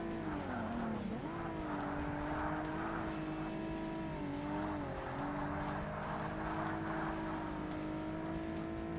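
Tires squeal under hard braking on a Z race car in Forza Motorsport, a long wavering skid over a steady droning engine that shifts pitch as the car slows and turns.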